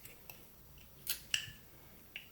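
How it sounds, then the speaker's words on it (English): Short, crisp knife cuts into wood during whittling, a few faint clicks and then two sharper, close strokes, with no talking. "make just a little stop cut in here, and then I'm going to cut right up to it"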